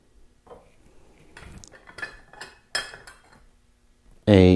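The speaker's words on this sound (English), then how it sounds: "Let me just rotate the teapot around so you can see it from all angles" Light clinks and taps of a glass butterfly teapot with a glass lid being handled and turned on a surface, scattered small knocks ending in a brief louder clatter.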